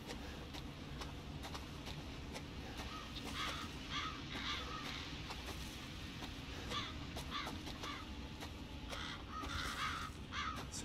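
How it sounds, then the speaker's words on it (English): Crows caw repeatedly over a constant dense ambient bed in the horror video game Resident Evil 7, with calls scattered irregularly across the scene at moderate distance. "Some birds telling me to go away."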